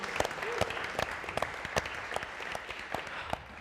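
An audience claps together in a steady, moderately loud burst of applause. Sharp individual hand claps stand out above the crowd, and there is no talking over it.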